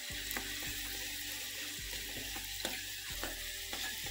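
Onion frying in a pan sizzles steadily, the crackle holding a constant level with a few soft knocks as it cooks.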